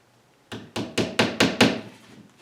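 Six hammer blows drive small nails into a homemade wooden tackle box, sharp woody knocks in a steady, quickening rhythm, close and clear with no voices.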